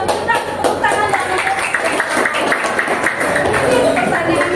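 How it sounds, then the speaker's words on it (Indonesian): A school class claps in a classroom during an Islamic cultural history lesson. Scattered, uneven hand claps patter along under a voice that keeps talking. "baru kita tepuk tangan"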